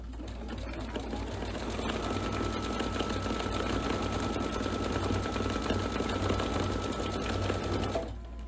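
Embroidery sewing machine stitching spider webbing, a continuous rapid mechanical chatter running close and steady for several seconds before stopping near the end.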